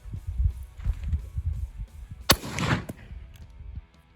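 A Savage Model 24 combo gun fires its shotgun barrel at an outdoor target, one sharp loud blast with a short rumbling tail, following a stretch of quiet low background noise.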